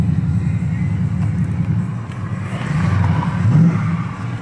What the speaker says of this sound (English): Y'all hear that truck though.